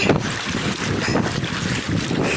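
Wind gusts buffet a kayak out on Lake Superior, a steady broad rush of air and choppy water with microphone buffeting throughout, loud and close, no talk.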